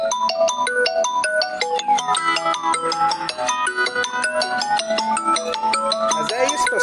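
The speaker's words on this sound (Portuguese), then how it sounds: "Olha me ligando." A phone's melodic ringtone plays loud and steady for the whole stretch, signalling an incoming call during a plush-toy claw machine game in a van, with faint voices and arcade sounds underneath.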